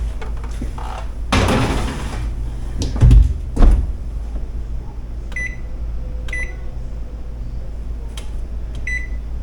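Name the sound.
jars being put into the oven, oven door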